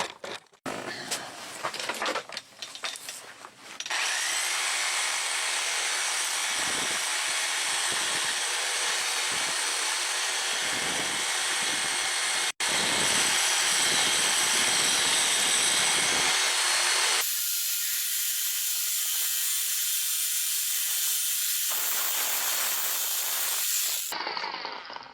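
A milling machine cuts down a cast pole axe part, producing a loud continuous hissing, whirring grind that holds steady for most of the stretch and shifts tone partway through, after a few scattered clanks at the start.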